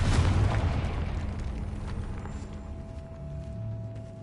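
The Confringo spell explodes in the Hogwarts Legacy video game with a loud, deep booming burst that rumbles and slowly fades, and a faint tonal hum lingers underneath afterward.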